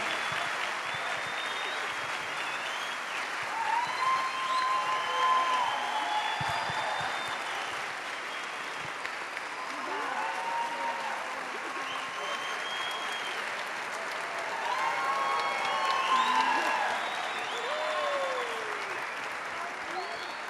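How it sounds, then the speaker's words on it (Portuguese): Church congregation applauding a leader at a baptism and communion service, a steady wash of clapping lasting throughout, with voices and cheering mixed in. "Vamos recebê-lo com uma salva de palmas?"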